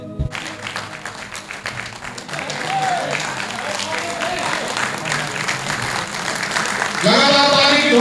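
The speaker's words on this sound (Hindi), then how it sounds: "लगातार ताली की ध्वनि से" Continuous applause from an audience at a community commemoration gathering welcoming two young singers, a steady dense clapping wash throughout with a voice speaking over it near the end.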